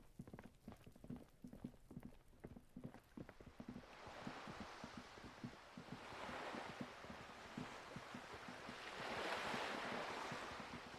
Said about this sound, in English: The water sounds nice.